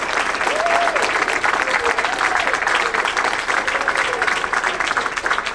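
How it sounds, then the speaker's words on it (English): Sustained audience applause at a conference panel discussion, a loud, even roar of many hands clapping throughout, with faint voices mixed in. "Mike Licona, Bart Ehrman, and Rob Bowman, give them one more round of applause"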